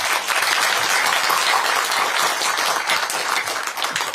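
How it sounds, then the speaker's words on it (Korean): Sustained applause from a crowd of Democratic Party lawmakers at a party caucus meeting in the National Assembly, cheering on floor leader Park Chan-dae; dense, steady clapping fills the room without pause and with no voices over it. "우리 박찬재 원내대표님 힘내시라고 큰 박수 부탁드립니다"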